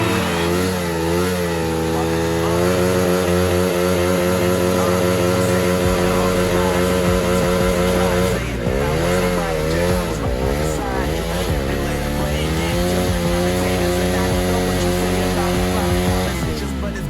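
A KTM RC200 motorcycle revs hard during a rear-tyre burnout. Its engine note climbs, wavers and rises again in loud, sustained bursts close to the microphone.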